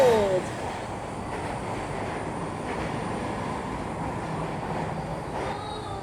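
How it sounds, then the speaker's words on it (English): A passenger train rolls by in Old Sacramento's outdoor rail area, a steady broad rumble holding constant throughout with a faint high squeal near the start, moderately distant with ambient crowd noise. "here comes another train"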